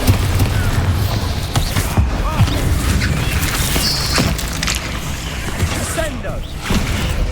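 A Bombarda blasting spell booms during Hogwarts Legacy combat, with dense, continuous battle noise, rumbling impacts and mechanical clatter, and voices mixed in.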